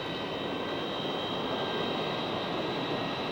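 An airliner taking off from San Francisco International, a steady, broad jet engine roar with a sustained high whine, fairly loud and continuous throughout.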